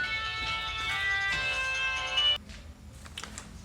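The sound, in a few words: phone ringing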